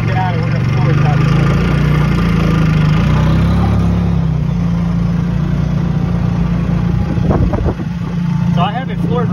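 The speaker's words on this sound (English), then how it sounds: "So you can see we're running on generator here." Generator on a hybrid electric golf cart hums steadily at a constant pitch up close, a continuous mid-range engine drone with someone talking over it throughout.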